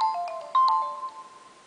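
A Nokia Lumia 625 smartphone plays its Alert 7 ringtone: a quick run of bright chiming electronic notes that rings out and fades, clear and alone.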